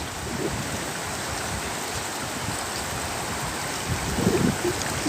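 Floodwater from a flash flood rushes at the mouth of the Kiraman River in Alor Selatan. It makes a steady, broadband roar of flowing water that continues without break, with no voices.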